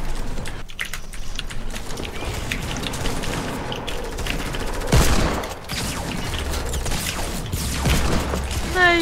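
Rapid gunfire in a Fortnite match, with repeated bursts and volleys of shots going off from several directions, mixed with close keyboard and mouse clicking and a little talk.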